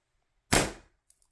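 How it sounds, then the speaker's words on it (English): A single sharp shot from a Sumeike .5 airgun firing an 8mm steel ball: one loud, close crack with a quick decaying tail, followed by a couple of faint small clicks. "here comes the first 5 shots of 8mm steel"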